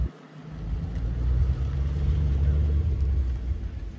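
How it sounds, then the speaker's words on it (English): A 2010 Ford Mustang GT with a 4.6 liter single overhead cam V8 pulls away, a low, steady engine rumble rising slightly and holding for a few seconds. "What a nice sounding little motor."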